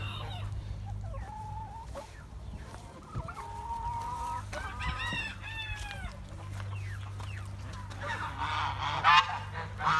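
A rooster crows among a flock of chickens in a backyard coop, with several drawn-out crows and clucks from the birds, a low steady hum behind them and livelier calling near the end.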